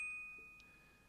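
MIDI-controlled robot bells, struck with little mallets, ring out with a clear sustained tone that slowly decays, followed by a faint second tap, quiet and alone.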